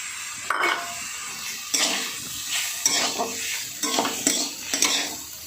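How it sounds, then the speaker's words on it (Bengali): Fenugreek greens fry in oil in a pan, with a steady sizzle and sharp scraping stirs of a spatula at irregular intervals, close and alone. "তেলের উপরে নাড়াচাড়া করে ভাজা ভাজা করে নিচ্ছি মেথি শাকটা"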